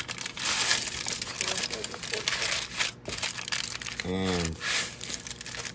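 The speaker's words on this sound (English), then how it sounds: "How about just a piece of aluminum foil? Wrap this thing up like you do leftovers." Aluminum foil being wrapped and folded around a mobile phone gives a close crinkling and crackling that runs through the whole stretch, mixed with handling noise, while a person speaks briefly.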